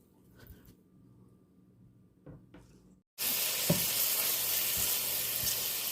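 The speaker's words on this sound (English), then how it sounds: "as it's heating up, you're going to want to go ahead and toss in your bacon" Bacon hits a hot pan and bursts into a loud, steady sizzle with crackling pops after a few seconds of quiet handling sounds, close up and continuing to the end.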